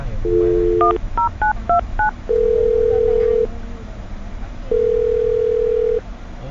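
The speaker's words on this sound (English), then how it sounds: "I'm dialing his phone number right now." A telephone number is punched in as a quick run of DTMF keypad beeps, followed by two long steady tones while the call connects, loud and clear with no one talking.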